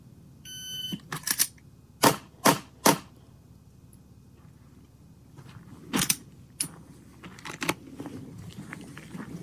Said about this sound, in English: this is Slav, 3-shot drill.